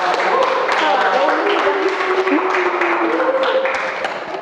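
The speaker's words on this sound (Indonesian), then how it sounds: "Baik, tepuk tangan untuk kelompok." A classroom of students applauds a group after their presentation, a dense burst of clapping that fills the room for several seconds before tapering off, with voices mixed in.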